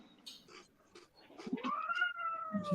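A house cat lets out a drawn-out, rising meow, faint and close, with a few soft scuffs and rustles just before it.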